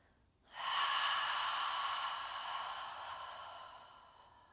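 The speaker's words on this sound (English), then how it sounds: "Nice open mouth exhale with me." A single long open-mouthed exhale during a yoga breathing exercise, a soft breathy rush that starts abruptly, holds steady and slowly fades, close and alone with no talking.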